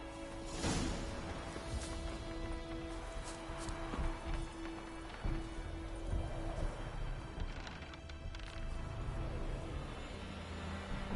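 Horse hooves clip-clop in The Witcher 3 video game, a steady run of moderately loud hoofbeats under a continuous game soundscape.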